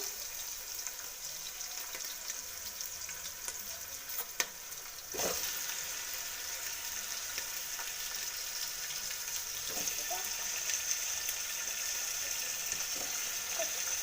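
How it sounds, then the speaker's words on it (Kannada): Chopped tomato drops into a pan of frying onions for a chicken gravy, with a sharp thump and a brief surge before the steady, fairly quiet sizzle continues. "ಈರುಳ್ಳಿ ಇಷ್ಟು ಫ್ರೈ ಆದರೆ ಸಾಕಾಗುತ್ತೆ ಇವಾಗ ಇದಕ್ಕೆ ಟೊಮೆಟೊ ಹಾಕೋತೀನಿ"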